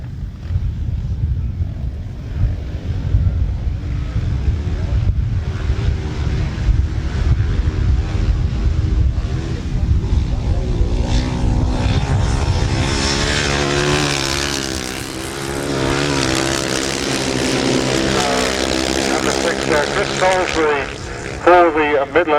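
Sidecar motorcycles in the 500cc class race on a grass track at a British team championship meeting, engines droning loudly and continuously near and far while a commentator talks over the racing.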